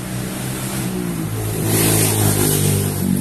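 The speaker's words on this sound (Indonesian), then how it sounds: "Hari ini kita kedatangan motor MX King" Engine of a Yamaha MX King motorcycle, 2002 model, running steadily with a mid-pitched hum that rises slightly in revs midway, with no talk.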